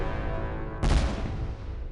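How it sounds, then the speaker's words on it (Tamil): A jute bomb firecracker bursts out suddenly, its loud boom and crackle trailing off into a long fading roar. "ஸோ இது வந்து வெடிகுண்டு. வெடிகுண்டுனா சணல் வெடிகுண்டு"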